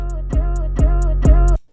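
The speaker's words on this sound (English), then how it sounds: "I basically did this little beat stutter effect that sounds like this" A music intro chopped by a beat stutter effect: a bassy, harmonic loop restarts abruptly three times in quick, even succession before cutting off sharply.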